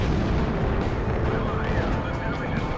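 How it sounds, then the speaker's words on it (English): Missile fired from a fighter jet in Ace Combat Zero, heard as a loud, sustained rushing roar with crackling bursts that fill the whole stretch, with no talk. "Galm 1, missile launched."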